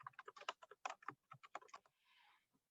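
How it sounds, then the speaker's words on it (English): Close, crisp typing on a computer keyboard as a name is keyed in, a fast irregular burst of key clicks followed by a brief soft rustle. "So we're going to type in his name, Thomas Scolus."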